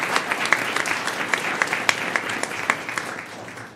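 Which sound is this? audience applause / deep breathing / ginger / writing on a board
audience applause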